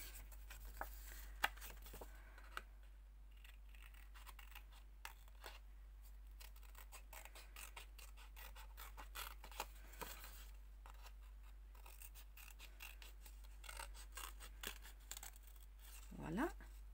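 Scissors snip through paper card in a run of small, sharp cuts and rustles over a low electrical hum.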